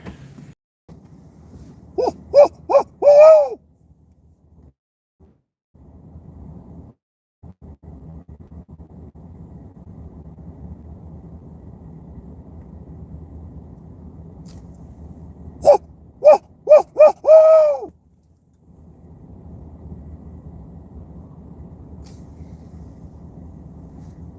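A person imitates an owl call, two short bursts of hooting roughly thirteen seconds apart, over quiet outdoor background rumble.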